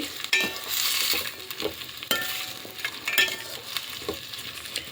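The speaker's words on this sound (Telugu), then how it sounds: "ఇప్పుడు మొత్తం అన్నీ ఒక్కసారి కలిపేసుకుందాము" Tomatoes and green chillies frying in a pan for tomato rice, a steady sizzle with repeated scraping and clinking strokes as the mixture is stirred, close and continuous.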